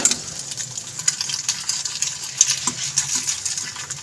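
Egg and potato fry in a pan on a home kitchen stove, giving a steady bright sizzle with scattered clinks and scraping from stirring, close and continuous with no talk.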